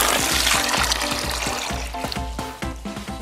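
Hot water pours steadily into a succulent soil mix, a close, continuous splashing gush that thins slightly toward the end.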